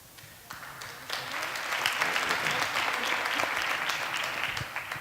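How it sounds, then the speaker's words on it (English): Audience clapping at a community talk on the opioid epidemic builds quickly from quiet into a dense, sustained round of applause from a roomful of people, fairly distant and without speech. "You don't have to clap after everything."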